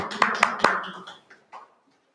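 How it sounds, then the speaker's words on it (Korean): A few sharp claps ring out in a church worship service, three distinct hits followed by scattered quieter ones that fade quickly into silence, with faint voices mixed in. "박수."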